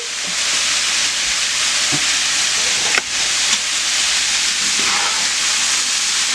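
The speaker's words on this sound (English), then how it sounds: "like three minutes tops is how long you want to fry them" Catfish and shrimp deep frying in hot oil for a Cajun fish fry, a steady loud hiss and sizzle throughout with a couple of brief clicks, no voices.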